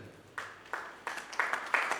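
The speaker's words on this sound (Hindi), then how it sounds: "वो भाई की ताली बजाएं" Hands clapping in a gathering of men at a Hindi-language religious talk, about five separate loud claps spaced unevenly, close and quiet, with no voices.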